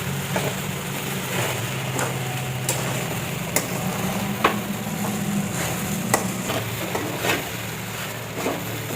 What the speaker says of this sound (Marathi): आता छान असं परतून घेते